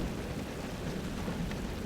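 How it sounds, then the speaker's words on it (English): Steady rain hisses while a low, rolling rumble of thunder sits beneath it, fairly quiet and continuous with no voices. "I had completely forgotten how loud thunder can be"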